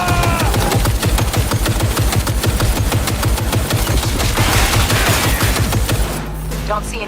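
Rapid assault rifle fire in the video game Cyberpunk 2077, a loud sustained burst of tightly spaced shots over game music, with a player's voice faintly underneath. The firing cuts off near the end.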